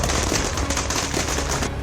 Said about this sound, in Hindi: मोदी के लिए लाए बिल का स्वागत पटाखों की तेज आवाज में कर रहे हैं।